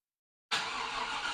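A truck's engine cranks and catches after a kill switch is flipped back, bursting in suddenly from silence halfway through and settling into a steady, close, moderately loud idle.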